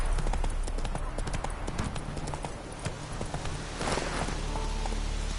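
Roach the horse from The Witcher 3 gallops in a steady, rapid clip-clop of hooves, loud and close, continuing throughout with a faint background hum.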